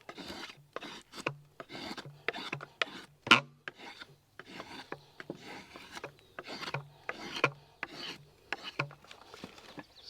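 A knife shaving wood for a birch bark canoe build, each stroke a rasping scrape in an even, repeated rhythm of about a dozen passes, close and moderately quiet, with one sharper knock partway through.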